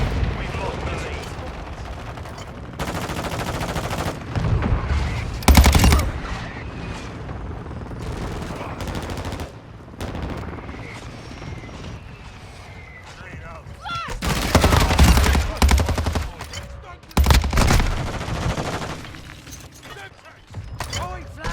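Loud bursts of automatic gunfire and explosions in a Call of Duty battle, with irregular volleys alternating with quieter gaps, under frequent shouted voices and in-game radio callouts.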